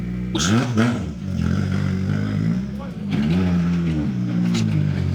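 A Mitsubishi Evo rally car drives a stage at the Daybreaker Rally, its engine revving up and down in repeated surges close by, with speech heard over the engine noise.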